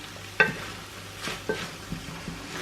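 Chardonnay-based sauce reduces in a pan while a spoon stirs it, giving a low steady sizzle broken by several soft knocks and scrapes against the pan, with no voices.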